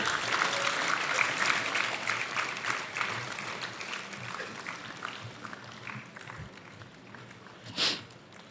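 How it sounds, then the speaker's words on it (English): An audience at an inauguration ceremony cheers and applauds students as countries are called out; broad, continuous clapping that slowly thins, with one brief louder burst near the end. "let us continue to cheer our students."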